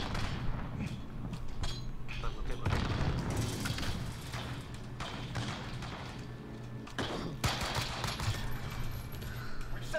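Muffled booms and thuds from a Modern Warfare 2v2 Gunfight match roll through dense, continuous gunfire, with a heavier blast standing out among the crackle.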